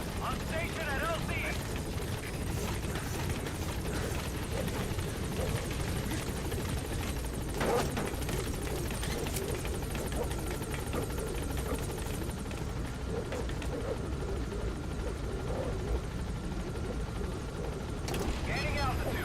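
Pequod helicopter from a Metal Gear game hovering at a landing zone, a steady broadband rotor and engine roar running throughout with radio voices talking over it.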